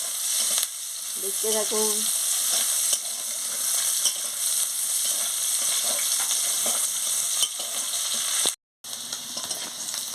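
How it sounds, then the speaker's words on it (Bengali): Onions sizzle steadily in hot oil in a pan, fried until reddish brown for a chachchari of pumpkin flowers, ivy gourd and potato; a continuous, even crackle fills the clip, with a brief voice near the start. "দেখুন, পেঁয়াজটা এবারে ভালো করে ভাজা হয়ে গেছে, লাল লাল হয়ে।"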